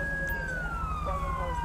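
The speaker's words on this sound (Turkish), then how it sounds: "Şu sireni bir kapatayım ben." Police car siren in the video game GTA 5, a steady wailing tone sweeping slowly downward over a continuous engine rumble, loud and sustained throughout, with voice chatter faintly underneath.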